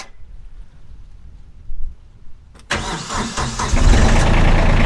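A tractor engine cranks and catches after a quiet moment, then settles into a loud, close idle that builds slightly as it warms in the cold.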